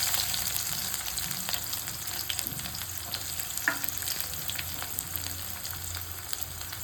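Chopped onion fries in hot oil with crackling mustard seeds and cumin, giving a soft, continuous sizzle with light stirring scrapes and occasional pops, heard close up and faint, with no voices.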